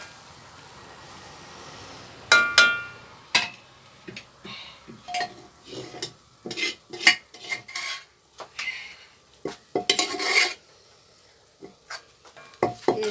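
Coconut pieces stirred into a curry in a pan, giving intermittent scraping and rubbing strokes of a spoon against the pan with soft clinks, fairly close and without talk.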